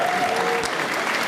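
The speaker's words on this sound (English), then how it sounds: "Give them a round of applause." A film festival audience applauds, a brief burst of dense, steady clapping filling the room.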